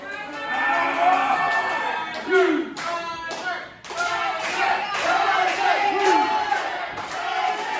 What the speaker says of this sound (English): The fans are cheering, again, picking sides here.